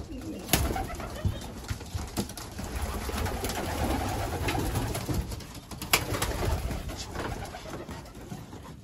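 Racing pigeons, young birds back from a race, coo steadily in a loft, with soft rustling and brief wing flutters throughout.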